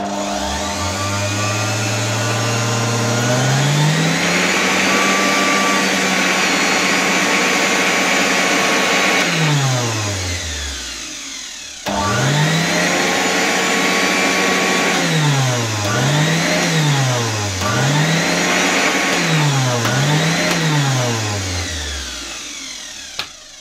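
A 1984 Zelmer 200 vacuum cleaner motor whirs up to a loud, steady drone and winds down, then starts again and is switched off and on in several quick cycles, its pitch rising and falling each time.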